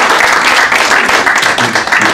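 An audience applauds the Beethoven Orchestra in a dense, continuous wash of many hands clapping, loud and close, with no voices standing out.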